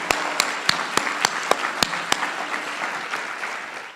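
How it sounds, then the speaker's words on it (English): A summit luncheon audience gives its presenters a round of applause, steady full-room clapping with a few sharp close claps standing out, gradually thinning toward the end. "Can we please give all our presenters another round of applause?"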